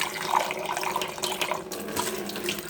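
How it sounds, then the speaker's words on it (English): Tap water runs steadily while a container from an alkaline water ionizer test is rinsed out, a continuous close splashing hiss with no talking. "I'm going to just rinse this out a little bit"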